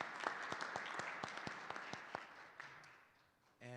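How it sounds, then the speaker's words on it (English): Applause at a school board meeting, a scattered round of clapping from a small group that thins out and fades, fairly faint, with a short voice at the end. "So let's give a round of applause for Mr. Brad Davis."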